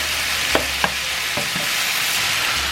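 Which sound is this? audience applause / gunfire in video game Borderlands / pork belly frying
pork belly frying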